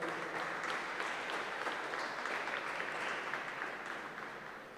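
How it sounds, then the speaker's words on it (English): A crowd at a doubles handball final, Liathróid Láimhe with O'Meara Gloves, gives the four players steady sustained applause that stays even, somewhat distant and soft, then tapers slightly at the end. "big round of applause for the 4 players there"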